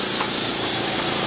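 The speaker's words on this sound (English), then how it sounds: "I'm just going to flip on the air pump" An air pump on a laser engraver running with a steady, loud broadband hiss and rush of air, close by with no talk.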